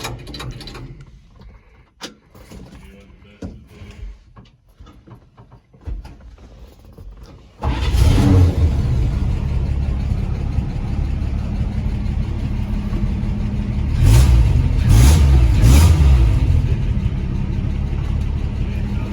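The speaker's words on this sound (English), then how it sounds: "we were able to fire it up and finally run it for the first time" An old truck engine cranks and fires up for the first time after some quiet clicks and handling noises, then settles into a loud, steady running rumble with a brief rev partway through.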